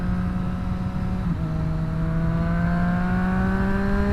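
A Triumph Street Triple RS motorcycle engine hums steadily and close, its pitch climbing gradually as it revs up while riding, with constant wind and road noise underneath and no talking.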